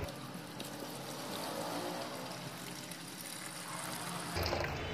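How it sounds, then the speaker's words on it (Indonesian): Water is poured out of a container during silver recovery from laptop and phone screen plastic, a steady close splashing gush that continues evenly, with a brief heavier slosh near the end. "Ini saya buang dulu airnya."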